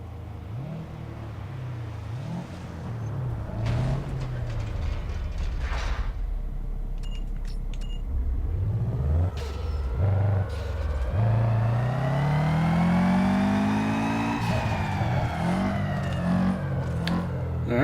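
A tuned car engine in Need for Speed Underground 2 revs on a dyno, droning low and uneven at first, then climbing in a long, rising pitch sweep and easing off at the end.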